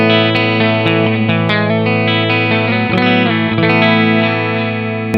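Clean electric guitar tone through a Joyo American pedal and cabinet simulation, slightly boosted, with a string of picked chords and single notes ringing out steadily and loud, no voices.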